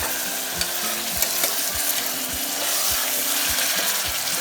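Chicken and tomatoes frying together in a pan for biryani, a continuous sizzle under a steady rhythmic scraping of a stirring spoon, close up with no talking.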